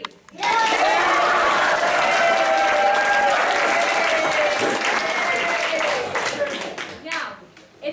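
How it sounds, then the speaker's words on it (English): An improv comedy theater audience bursts into loud clapping and yelling, a sustained roar of applause and shouts lasting several seconds before tapering off into scattered claps. "I need you to clap and yell as loud as you can"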